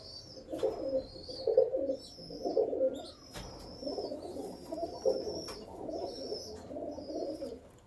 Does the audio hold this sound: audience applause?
no